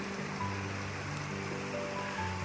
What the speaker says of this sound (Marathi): छोट्याशा धबधब्यासारखं पडणारं पाणी